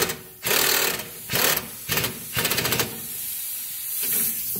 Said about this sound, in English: So I'm going to get a socket and we're going to tighten that up with an impact gun.